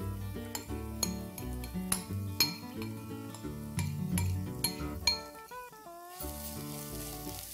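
Soaked, lightly crushed chana dal sizzles in a pan with turmeric while a spoon stirs it, scraping and clinking against the metal in repeated sharp knocks over a soft frying hiss.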